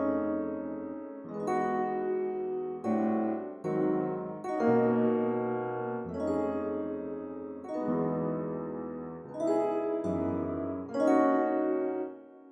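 Warm layered chords from a chill beat built in FL Studio play alone as sustained harmonic blocks that change roughly every one to two seconds, with no voice over them.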